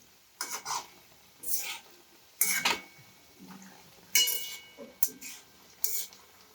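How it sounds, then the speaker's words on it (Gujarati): Cauliflower florets frying in a pan for crispy Gobi 65: intermittent bursts of stirring and scraping, each a second or so long, over a quiet background sizzle. "આપણે નીચેથી ફ્લાવર સારી રીતે ફ્રાય થઈ જાય પછી આપણે એને પલટાવી દઈશું"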